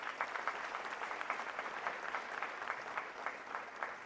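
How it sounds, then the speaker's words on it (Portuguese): A crowd at a solemn session gives steady, fairly distant applause, an even wash of many hands clapping throughout with little variation. "Salva de palmas."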